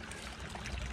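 A small garden pond waterfall trickles and splashes steadily, a soft close wash of running water with no pauses.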